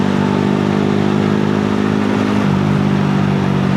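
A motorcycle engine fitted with a new airbox runs steadily, a loud, continuous droning hum with a slight shift in pitch partway through, heard close and without talk.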